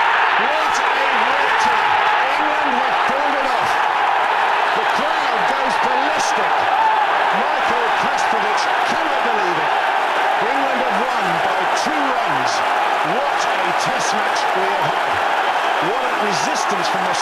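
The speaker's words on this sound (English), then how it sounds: "What a victory! England have pulled it off. The crowd goes ballistic." A cricket crowd erupts in a loud, sustained roar as England win an Ashes Test, a dense wash of cheering and shouting that holds steady and close throughout.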